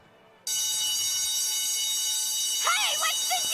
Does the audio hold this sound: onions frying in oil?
no